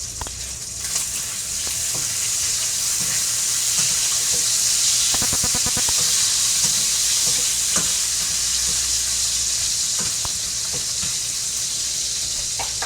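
Bacon frying in a pan, a loud steady sizzle with occasional stirring scrapes and pops throughout.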